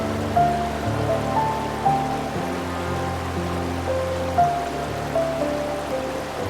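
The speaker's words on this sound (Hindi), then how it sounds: "उस वाटरफॉल से बनती ये नदी भी आप सामने से देख सकते हैं।" A river fed by a waterfall in Munnar, Kerala, rushes in a continuous, fairly loud wash, with faint tonal sounds drifting over the flow.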